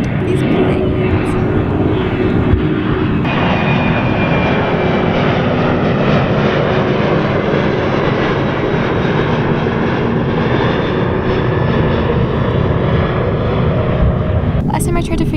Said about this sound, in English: These planes. I wonder where they're all going.